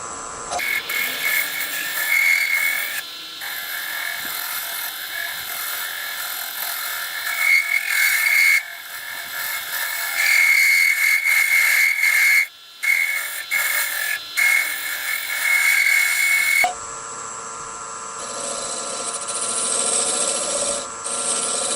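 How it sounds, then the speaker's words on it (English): A half-round woodturning tool cleans out coves in a spinning wooden scratch awl on a lathe, giving a loud, continuous scraping hiss over the motor drone, with brief breaks and a change in tone near the end. "So I'm going to run my half round a little bit to clean out the coves."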